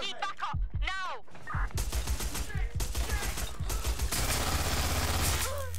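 Repeated bursts of gunfire from the video game Watch Dogs: Legion, rapid volleys rattling loudly through most of the clip, with short voiced cries over the shooting at the start.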